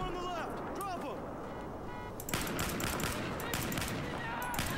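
Gunfire in the video game Battlefield 4, a dense stretch of rapid broadband bursts that starts about halfway through and keeps going loudly, following a quieter opening with talk and game sound.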